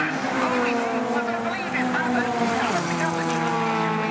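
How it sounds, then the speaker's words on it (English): At Brands Hatch during a Tunerfest South race, a stalled race car fires back up and pulls away, its engine droning loudly and rising in pitch, with a commentator's voice and crowd noise mixed underneath. "Rydell Zell's car fires back up again, and off he goes"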